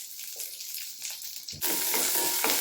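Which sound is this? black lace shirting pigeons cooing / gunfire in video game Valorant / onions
onions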